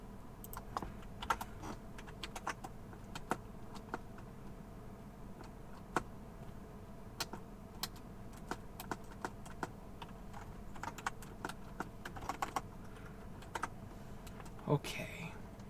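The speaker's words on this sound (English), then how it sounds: "I've never written with this keyboard." Rapid, continuous typing on a computer keyboard that is still being broken in, with close, crisp key clicks and occasional heavier keystrokes.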